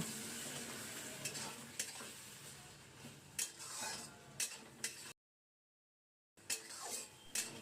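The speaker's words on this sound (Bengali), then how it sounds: "মশলা বাটার জলটা দেওয়ার পর আর একটু ভালো করে কষিয়ে নেব" Spice paste stir-fried in a wok after the spice-grinding water is added, for a homemade duck egg and potato curry; continuous sizzling with repeated spatula scrapes and clinks, close, briefly cut to silence before resuming.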